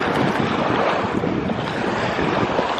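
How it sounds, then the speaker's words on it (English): Waves washing up at the water's edge on Castaway Cay, Disney's island beach, a loud continuous rush of surf and wind buffeting the microphone. "The waves are washing up on me"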